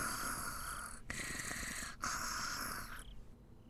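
Soft, steady snoring from the character Satoko in the Higurashi visual novel, a continuous breathy rasp with two brief breaks before trailing off, heard alone with no talk.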